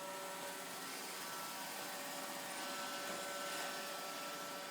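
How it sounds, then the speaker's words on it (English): Roomba robot vacuum cleaner running indoors, a faint, steady whirring hum with a constant tone and no talk. "Filming the Roomba."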